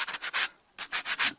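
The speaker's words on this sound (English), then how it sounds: "give them a bit of a sanding on the edges to make them less rough" Rapid rasping strokes of sanding the edges of brake pads from a Peugeot 206, two quick bursts of back-and-forth rubbing separated by a brief pause, close and crisp.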